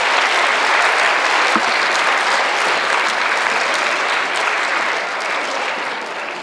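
Sustained, dense applause from a school audience at a quarter awards ceremony honoring fifth grade honor roll students, loud and steady throughout before easing slightly at the end.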